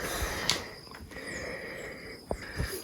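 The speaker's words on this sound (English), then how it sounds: "Pardon my heavy breathing." Someone breathes heavily after climbing about 100 stairs to a viewpoint in Jamaica, giving a few audible, close puffs and sniffs against a quiet outdoor background.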